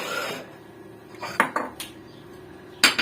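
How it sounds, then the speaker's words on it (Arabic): An empty bowl is handled in a home kitchen while kofta is prepared, producing a few sharp clinks and knocks of dishware at a close distance, with one burst near the start and another near the end. "هنجيب بوله فاضيه"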